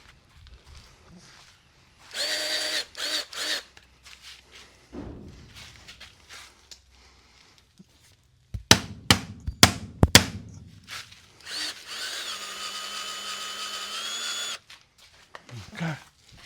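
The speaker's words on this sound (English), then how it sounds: "Don't buy this electric grease gun." Derette DRT450 electric grease gun with a broken spring, running in short whirring motor bursts broken by clunks and sharp knocks, close by and fairly loud, with pauses between attempts.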